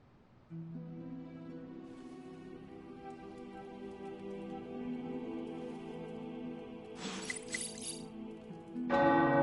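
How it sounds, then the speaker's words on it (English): Tower bells ringing with long sustained resonant tones layered over one another, followed by a brighter clatter of strikes toward the end. "The tower bells are ringing."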